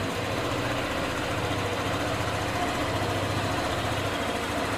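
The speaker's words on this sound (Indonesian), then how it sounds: "ketika kita sambungin kontak bisa diputar dan motor bisa hidup" A Honda ADV smartkey motorcycle engine runs at idle, holding a steady, close, even putter with no pauses or speech.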